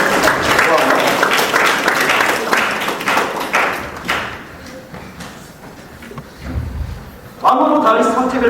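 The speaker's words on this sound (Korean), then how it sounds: "박수 한번 주세요" A church youth congregation at a Korean youth service applauds for about four seconds, then the clapping fades into room noise, bumps and a thud before a voice starts speaking near the end.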